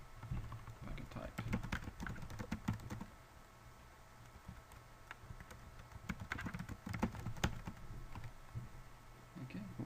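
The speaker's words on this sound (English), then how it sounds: "I can type." Typing on a computer keyboard, quick irregular clicking keystrokes in bursts, faint and close, with someone talking at times.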